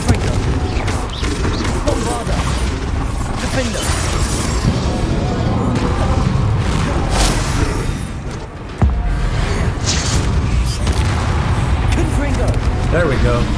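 Bombarda spell blasts in Hogwarts Legacy on PS5, loud booming explosions and crashing impacts over game music, with a player talking across them and a short drop in level partway through.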